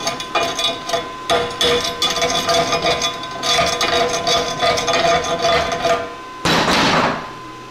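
Slag being chipped off an aluminium stick weld, rapid close metallic tapping and scraping in quick bursts, followed by a short rougher brushing sound near the end, no talking.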